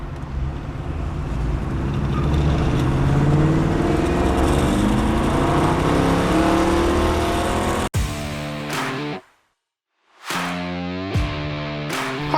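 Engine of a 1960 Chevrolet Corvette convertible, first a long steady drone of running or driving, then sharp revs that rise and cut off, with a short gap of near silence before a final revving burst.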